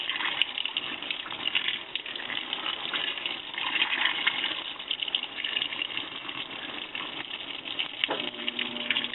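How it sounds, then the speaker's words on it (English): A washing machine filling with water, a steady gushing and splashing stream that runs unbroken and fairly close, with no talking. "as the machine's putting water in, they're getting splashed on"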